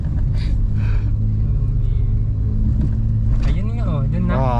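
A vehicle passes on a road near a bridge during a funeral procession, its low engine rumble steady under people talking nearby, with a brief rising whine near the end.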